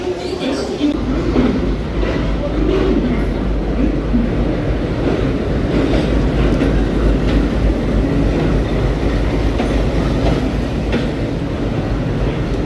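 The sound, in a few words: train at Howrah railway station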